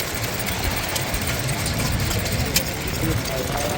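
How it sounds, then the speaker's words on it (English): A stationary engine drives a water pump up to a water tank at a classic engine show, a steady close mechanical chug and rattle running evenly throughout. "Got an engine running a water pump up and down to the water tank."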